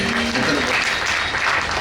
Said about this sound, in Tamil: எல்லாரும் சேர்ந்து சொன்னவங்களுக்காக கை கைதட்டுங்க